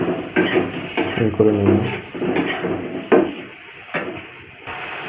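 Egg and potato curry is stirred in a metal pan with a utensil, making a series of close, distinct clanks and scrapes with a faint sizzle, while a person talks over it.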